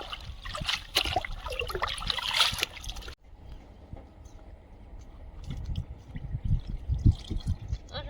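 Leafy greens washed by hand in water, with splashing and trickling that stops briefly partway through, then resumes more softly with low sloshes and drips.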